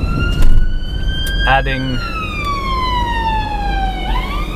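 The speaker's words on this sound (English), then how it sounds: "that was an ambulance" Ambulance siren wails loudly as the vehicle passes close by on a London street, its pitch sliding downward as it goes, heard from inside a Range Rover Vogue 4.4 V8 with someone talking over it.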